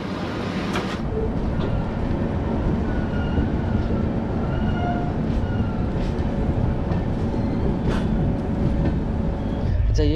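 An AP Express passenger train runs along with a continuous heavy rumble and rattle of the carriages, faint rhythmic clacks showing through, as heard from inside the coach.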